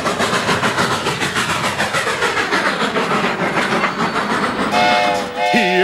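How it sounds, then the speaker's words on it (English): A Seaboard Coast Line train rolls past with a loud, close, steady rhythmic clickety-clack of wheels on rail joints, and a whistle sounds near the end. "Here they come, clickety-clack, down the track."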